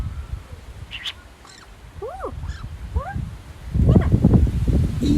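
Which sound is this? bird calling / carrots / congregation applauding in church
bird calling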